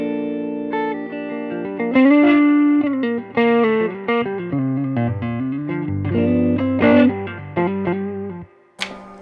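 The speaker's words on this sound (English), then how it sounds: "It's darker, it's warmer sounding, especially on the neck pickup." A Wide Sky P-125C electric guitar on its neck pickup plays a warm, dark single-note melody with effects, the notes close and sustained, ending in a sharp click.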